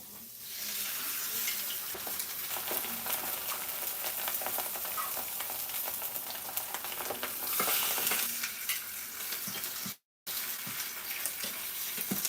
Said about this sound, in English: let's go to the other pan and add our salmon